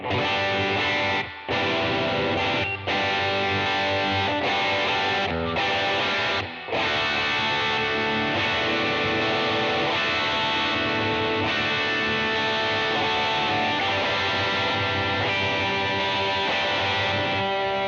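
Heavily distorted electric guitar chords through stacked overdrive pedals ring out loud and sustained, with a few brief gaps where the strumming cuts before crashing back in.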